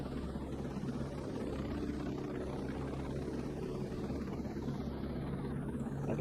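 Steady low rotor drone of a helicopter in the video game Ghost Recon Breakpoint, constant and unbroken with no talk, swelling slightly at the very end.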